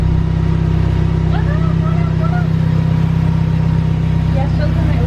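A Mazda Miata engine idles after an odd start-up, a steady low rumble running the whole time with a faint whine above it and brief voices in the background.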